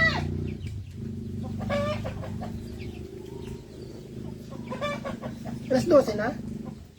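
Chickens cluck near a farmyard over a steady low background hum, several short clucking bursts with a louder flurry near the end, while a person speaks briefly.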